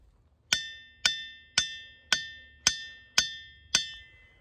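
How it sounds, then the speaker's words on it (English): A hammer strikes the boulders at Ringing Rocks Park seven times at a steady pace, each blow giving a sharp metallic clank that rings out like a bell and fades before the next. "let's hit some more rocks."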